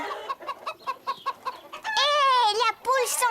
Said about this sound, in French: Hé, la poule s'en va!